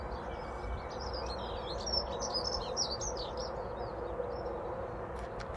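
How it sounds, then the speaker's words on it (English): A bird sings a bright, warbling run of chirps over a steady low rumbling background hum, fairly clear but not very close. "There's a beautiful bird singing."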